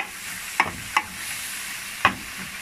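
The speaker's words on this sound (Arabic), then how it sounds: "شوح بس البصلة كده بس اديها تشويحة" Chopped onion sautéing in a pan on a gas stovetop gives a steady soft sizzle, broken by three sharp scraping stirs of a utensil against the pan.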